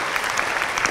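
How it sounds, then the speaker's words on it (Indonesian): A studio audience claps at an Islamic television show, a brief, dense, lively patter of many hands at steady loudness. "boleh tepuk tangannya dulu dong untuk semangatnya"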